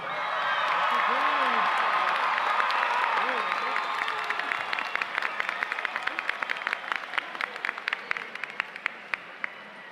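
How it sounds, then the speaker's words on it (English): Crowd at an Oak Ridge High School graduation ceremony applauding the graduates, sustained clapping with cheers and whoops that thins into scattered individual claps near the end. "Let's give these graduates another round of applause."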